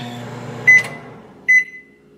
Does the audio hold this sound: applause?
no